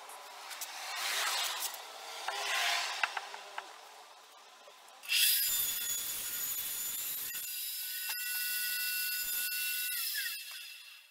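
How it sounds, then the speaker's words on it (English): A radial arm saw cross-cutting a wooden carcass panel to length: quiet shop rubbing and handling first, then the blade spins up loudly and whines steadily through the cut for several seconds before winding down. "I'm going to take that middle piece I have over to my radial arm saw, and I'm going to rip it, cross cut it down to 27 1/4"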